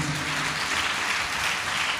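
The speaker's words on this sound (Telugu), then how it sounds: "చప్పట్లు కొట్టండి గట్టిగా." A church congregation at a Sunday worship service clapping, a dense, steady wash of many hands filling the hall evenly throughout.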